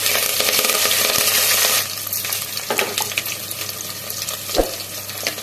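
Curry leaves hit hot oil for Telugu-style sambar with a loud, dense sputtering burst that drops after about two seconds into a quieter crackling sizzle, with a few clinks near the pan.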